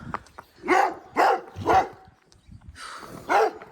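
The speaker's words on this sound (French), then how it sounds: "Oh, il y a des chiens partout là." Dogs bark loudly and close by on an outdoor walk, giving about five sharp barks in an uneven rhythm with short quiet gaps.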